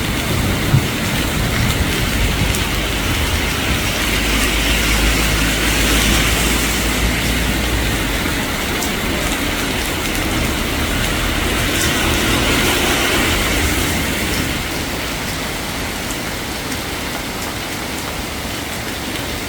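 Heavy rain pours down in Kanchanaburi, Thailand, a steady dense hiss that holds loud and even for most of the stretch before easing slightly near the end, with no voices.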